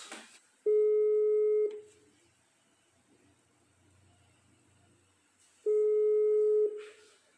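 Telephone line tones on a call being placed, two long steady beeps about five seconds apart with a faint hissy line between them, heard clearly and alone.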